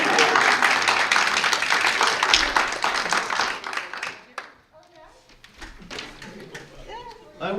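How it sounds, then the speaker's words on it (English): A Christmas show audience applauds loudly for about four seconds, then the clapping fades into scattered claps and quiet room noise. "You may clap for yourself."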